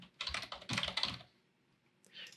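Someone types a name on a computer keyboard: two quick, close bursts of key clicks, a short pause, then a brief final flurry.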